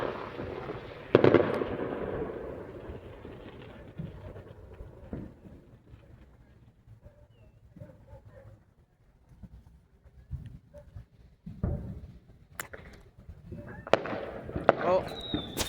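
Distant 4th of July fireworks crackle and pop in scattered bursts with occasional sharper bangs, fairly faint outdoors, with people talking at times over the low background.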